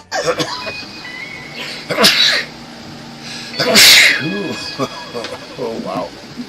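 Several close, loud sneezes burst out amid coughing and throat clearing in a lounge, with people talking in between.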